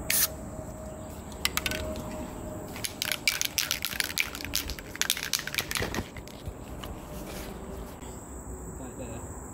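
An aerosol spray paint can sprays and leaks, letting out short irregular hissing bursts close by, clustered in the middle and tapering off toward the end.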